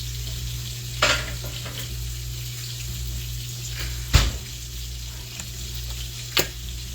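Strips of bacon laid flat in a lined pan sizzle steadily at close range, with a few sharp clanks of a utensil against the pan breaking through the continuous frying hiss.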